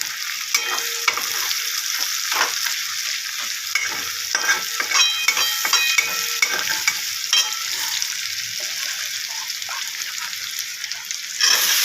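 Nigella seeds and vegetables for dhaba-style aloo gobi frying in oil, a steady close sizzle with repeated scraping of a spatula stirring the pan, no talk.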